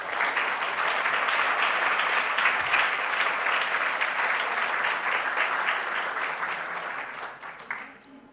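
An audience applauds Richard Davis at his farewell, a sustained wash of clapping from many hands that holds steady for several seconds and then tapers off near the end.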